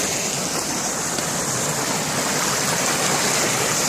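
After rain, water gushes out of a pipe into a brook in a dense, steady, close rushing roar that holds constant throughout, with no voices over it.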